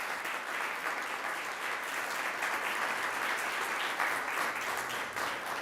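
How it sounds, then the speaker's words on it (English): Steady applause from an audience at an award ceremony, honouring a school principal as she stands to be recognised; dense, even clapping that runs unbroken and fairly full throughout. "Let's give her a round of applause."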